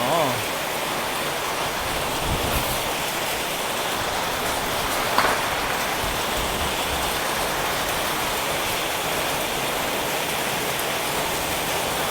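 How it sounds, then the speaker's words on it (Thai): Heavy daytime hot-season rain in Thailand falls steadily and loudly with no wind, a dense continuous hiss of drops on surfaces with no talking. "ฝนหนัก จริง ๆ ครับ วันนี้"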